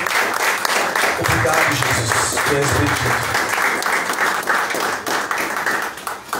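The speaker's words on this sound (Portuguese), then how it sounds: "Você pode aplaudir Jesus bem forte por essa palavra." A church congregation claps strongly and steadily throughout as a preacher speaks over the applause.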